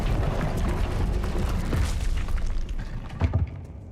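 A Confringo fire spell blasts in Hogwarts Legacy, a loud burst of booming, crackling fire that holds steady for several seconds, then a second sharp pop near the end.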